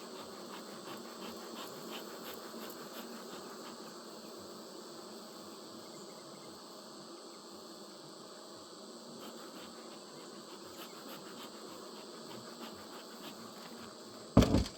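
Honeybees in an open hive, a medium honey super, hum as a steady low drone of insect activity held at even loudness, with a brief louder knock or scrape right at the end.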